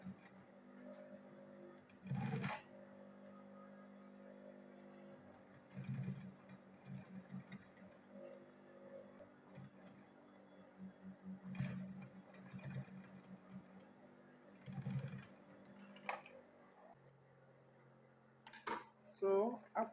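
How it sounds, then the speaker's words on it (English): A sewing machine stitches a handbag in short bursts of whirring, several separate runs spread across the stretch, with quiet handling noises between and a voice talking over it. "Then I will sew it downward there."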